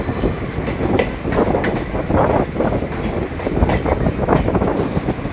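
The Hazarduari Express rumbles along at speed after leaving Krishnanagar, with a loud, continuous roar of wheels on rails and rhythmic clickety-clack beats heard from inside a carriage.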